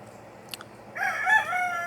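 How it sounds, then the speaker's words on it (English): A rooster crows once, fairly close and clear, following a brief faint bird call, with a quiet outdoor background in a home garden. "That's why you hear the roosters crowing."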